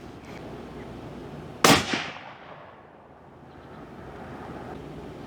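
A 300 Win Mag rifle fires one loud, sharp shot, its report trailing away over steady outdoor wind noise.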